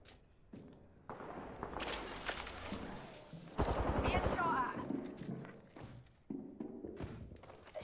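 Gunfire in Apex Legends on Nintendo Switch, a sustained burst of rapid shots with thumps and footsteps, loud and close, with a player talking around it.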